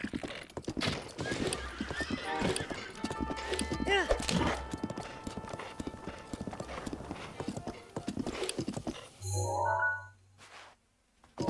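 Rapid hoofbeats of a galloping horse in The Legend of Zelda: Breath of the Wild clatter steadily, with a whinny rising partway through, all under a running voice and game-like sound effects.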